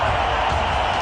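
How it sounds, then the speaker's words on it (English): A cricket stadium crowd roars in a loud, sustained wash of cheering and shouting after an Indian Premier League boundary, with no break in the noise. "This crowd is getting very vocal."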